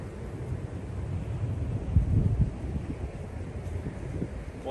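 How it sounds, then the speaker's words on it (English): Steady wind gusts buffet the microphone on an open golf course on a cold day, a continuous low rumble that swells briefly in the middle, with no talking. "We've got a pretty good wind coming directly at us."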